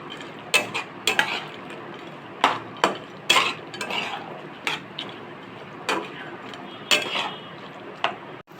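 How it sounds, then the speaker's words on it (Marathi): Soya chunks stirred into a paste in a pan for restaurant-style soya chilli, a spoon scraping and clinking against the pan in a dozen irregular sharp knocks over a low, steady background. "नंतर सोयाबीन टाकूया आणि याला सगळं मिक्स करून घेऊया आपण."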